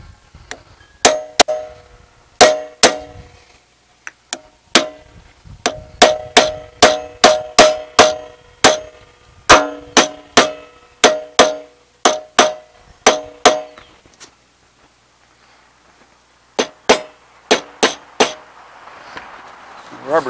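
A metal hammer strikes a trailer wheel cap, sharp metallic blows ringing out in quick bursts of several, pausing between groups, loud and close with a bright clanging tone.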